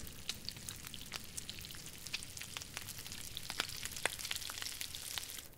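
Meat cooking over a fire in the survival game The Long Dark, a quiet steady sizzle with scattered sharp pops and crackles throughout.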